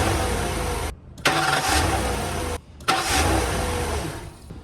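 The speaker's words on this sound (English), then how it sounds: "I successfully did 10 jump starts of the Mustang GT with the device" A Ford Mustang GT's engine is jump started twice from a lithium jump starter, each time a cranking start that catches into a loud close rumble, with short gaps of near silence in between.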